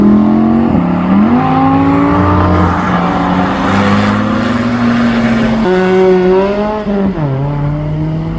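An Audi R8 pulls away from a car show, its engine loud and close, revving through rising and dropping gear changes with a continuous throaty drone.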